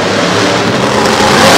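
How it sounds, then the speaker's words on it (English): The Instigator monster truck's engine revs loudly in a steady, rough roar at a 2020 monster truck show in Harrisburg, running unhealthily while the truck has rear steering problems. "the motor doesn't sound too healthy either."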